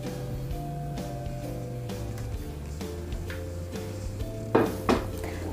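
Dishes and utensils clink lightly while chocolate pudding made with Chocolatos is poured into moulds, with scattered taps and a couple of louder clatters near the end, no talking.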